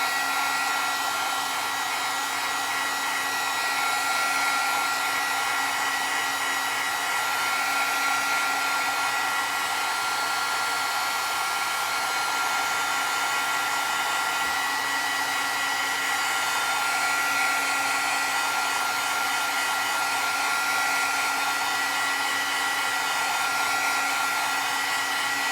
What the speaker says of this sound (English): is I have my little dryer here, and I'm just going to hold this down on the end